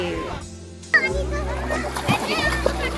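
Children splash into shallow pool water at a farmhouse picnic, with bursts of splashing mixed with lively kids' voices and chatter close by.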